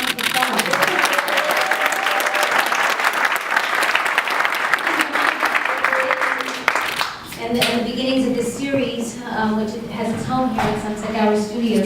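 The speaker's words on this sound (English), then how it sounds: "Let's give my mom a round of applause" Loud, sustained applause from a large crowd at a film event speech fills the room, with dense clapping that carries on as a voice starts speaking over it near the end.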